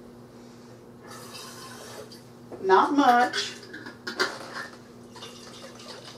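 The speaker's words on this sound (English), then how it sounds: "I'm going to put a little water in this and shake it up." Water splashes into a nearly empty pasta sauce jar, with a brief sloshing, rattling burst of shaking in the middle of a home kitchen scene. A person talks quietly before and after.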